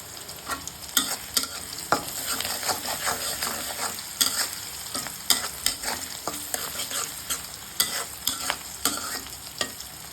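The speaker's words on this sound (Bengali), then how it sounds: "একটু সময় নিয়ে ভালো করে পেঁয়াজগুলোকে ভেজে নেব" Onions fry in a pan while a spatula stirs them, producing a constant sizzle broken by frequent sharp scraping clatters in an uneven rhythm, fairly close.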